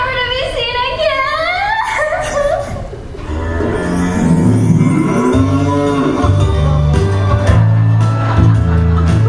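A staged cow moo sound effect in a stage play performance, a loud drawn-out lowing call heard over children's voices and audience chatter, with a busy, echoing hall behind it.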